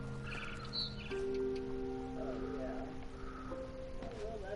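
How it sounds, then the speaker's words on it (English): Small bird chirping in the What Remains of Edith Finch video game: a few brief, high tweets near the start over a steady, sustained tonal background, fairly faint throughout. "Then I heard chirping outside my window."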